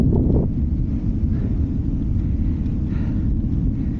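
Steady low wind rumble buffeting the microphone on open moorland in the Peak District, constant and fairly loud throughout, with no voices.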